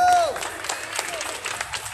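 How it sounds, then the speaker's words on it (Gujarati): Applause from a crowd welcoming a judge at a neighborhood Navratri garba event in Surat, a steady patter of many hands clapping for about two seconds, with a brief tone at the start. "મનીષભાઈ બદામીનું પણ આપણે સ્વાગત કરીશું તાળીઓથી."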